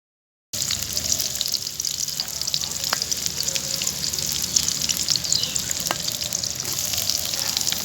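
Whole spices such as cardamom, cumin, nutmeg and mace drop into hot oil and start to sizzle loudly right away, a dense, crackling fry that keeps going steadily close by.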